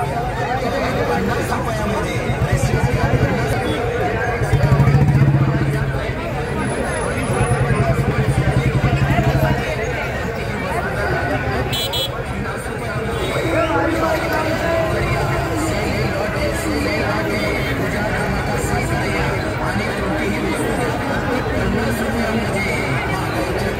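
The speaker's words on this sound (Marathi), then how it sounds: "कसली गर्दी बघा" A packed village fair fills the air with dense, continuous crowd babble and hubbub, with a motor running nearby now and then and a person talking up close over it.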